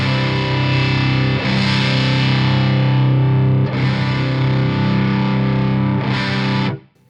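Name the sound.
sizzly guitar tone with reactance turned up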